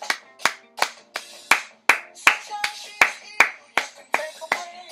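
Hands clap together in a steady, even beat of about two claps per second, sharp and close, with no talking over them.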